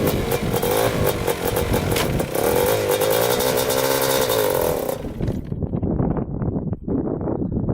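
A 250cc two-stroke quad engine runs loud and close, buzzing and revving with shifting pitch as it rides, then drops to a rougher, lower idle.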